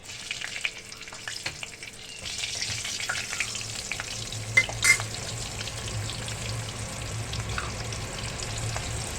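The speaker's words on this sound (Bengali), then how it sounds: "এবার ওই তেলেই আমি দিয়ে দেব দুটো কাঁচা লঙ্কা" Two green chillies hit hot oil in a pan left from frying aubergine, giving a steady close sizzle that swells after about two seconds, with a few sharp crackles and spatters.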